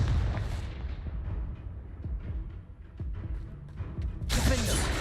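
A Confringo fire spell bursts in the Hogwarts Legacy video game, with scattered thuds and impacts building to a loud, crackling blast near the end.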